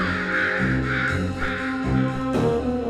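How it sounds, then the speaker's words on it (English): Crows caw loudly and close by in a quick series of harsh, repeated calls, about one every half second, with no other sounds competing. "Crows are intelligent and super chatty."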